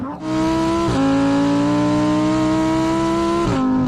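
A 2019 Lamborghini Huracan Evo engine revs hard and close to about 8,500 rpm, climbing through a long high-pitched wail with a couple of brief gear-shift dips, loud throughout.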